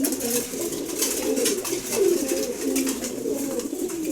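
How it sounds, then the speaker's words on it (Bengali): Several racing pigeons coo together while eating their morning feed, a dense overlapping rolling coo that carries on without pause, close and fairly loud. "সব কবুতরগুলি খুব সুন্দর এখন খাবার খাচ্ছে সবাই"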